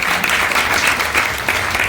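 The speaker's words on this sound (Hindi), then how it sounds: "लीजिए, ताली बजा दीजिए।" An audience at a devotional bhajan gathering claps in a steady, dense burst of applause, close and fairly loud for a couple of seconds with no one speaking over it.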